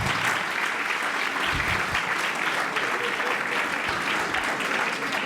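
Audience applause at the Vecia 2016 event in Ponzano Veneto, a dense, steady clapping from a crowd that fills the whole stretch at an even level, with no talking over it.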